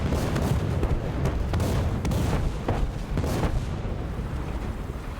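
Tank cannon fire in War Thunder, a series of deep, heavy booms over a constant low rumble of battle noise, loud and close, with no talk.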